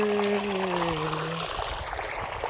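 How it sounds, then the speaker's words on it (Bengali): Water flowing and falling into a mustard field in a red-soil village: a continuous, close rush of trickling, splashing water, with a brief falling tonal hum early on that fades away. "এটা যে জলটা আসছে এখানে, জলটা পড়ছে আর ঢুকছে মাঠে"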